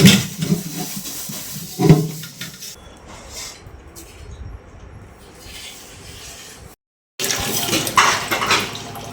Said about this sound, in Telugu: జల్లడి గిన్నెలో పెట్టుకున్నాం నీరంతా చక్కగా పోతుంది